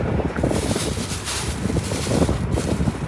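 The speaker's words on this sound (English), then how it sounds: "Windy today." Strong wind outdoors in South Dakota buffeting the microphone, a continuous roaring rush with gusty swells, loud and close, with no voices.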